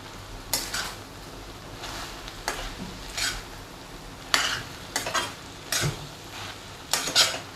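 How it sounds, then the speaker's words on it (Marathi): Okra bhaji with freshly grated coconut is stir-fried in a pan, a soft continuous sizzle broken by repeated metallic scrapes and clanks of the spatula against the pan, close by and with no talking. "हे ओल्या नारळाचं खोबरं घालून छान अशी भाजी आपण आता परतून घेऊया"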